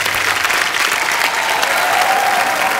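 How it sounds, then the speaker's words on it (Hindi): A studio audience at a comedy show breaks into loud, dense applause to welcome Hariharan and Leslie Lewis, a continuous roar of clapping throughout. "जोरदार तालियों से स्वागत कीजिए my favourite mister Hariharan and Leslie Louis."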